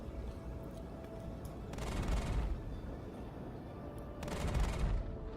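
Big spaceship cannons in Star Citizen fire in two heavy bursts, each a broad booming rush of shots lasting about a second, sounding fairly muffled and moderately distant over a low steady engine hum.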